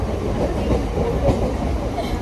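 A train running along the tracks, a constant loud rumble with rhythmic rail clatter heard from inside, with faint voices in the background.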